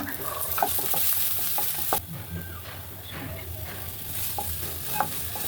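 Garlic paste with ginger and cumin paste is stirred into hot oil in a pan, giving a continuous sizzle with repeated scraping strokes of a spoon, loud and close, with one brief break partway through.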